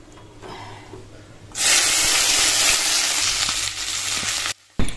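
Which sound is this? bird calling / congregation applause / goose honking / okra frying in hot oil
okra frying in hot oil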